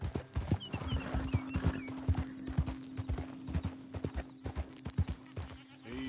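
Horse hooves in Red Dead Redemption 2 trot in a steady, rhythmic clip-clop close by, with a faint whinny and sustained tone early, continuing evenly throughout.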